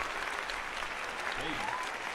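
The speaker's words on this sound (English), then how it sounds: "Round of applause." A crowd claps in a brief burst of applause, a steady dense patter filling the space, with a voice speaking faintly under it.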